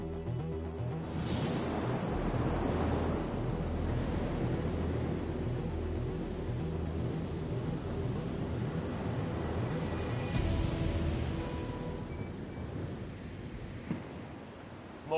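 Surf washing onto a tropical beach at night near Cartagena, a steady broadband rush with gentle swells in loudness, fairly close and continuous with no voices.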